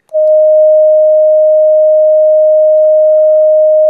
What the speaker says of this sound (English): I have in my hand a small electronic oscillator that plays a pure tone of 620